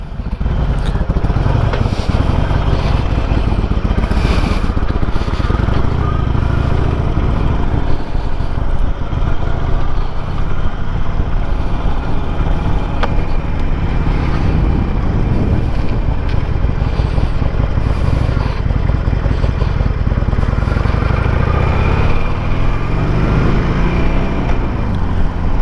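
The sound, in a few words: Harley-Davidson Sportster motorcycle ride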